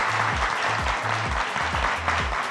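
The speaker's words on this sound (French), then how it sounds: "et on applaudit Geneviève, Rose, Murdite, Joseph" Audience applause at a launch ceremony, a steady crowd of clapping with a low, rhythmic thumping of music underneath, at moderate, even loudness.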